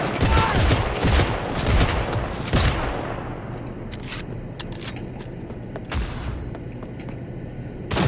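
Gunfire in Cyberpunk 2077 crackles in dense, loud bursts during the first few seconds, then thins to a few isolated sharp shots over a lingering background rumble.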